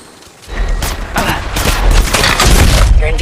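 Gunfire in a squad battle in the Apex Legends Mobile video game, loud booming shots and bursts coming in dense clusters, with game voice lines heard over the action.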